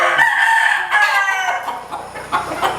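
A white hackle gamecock rooster crows nearby, a loud drawn-out call followed by a few short clucks and fowl noises in the background.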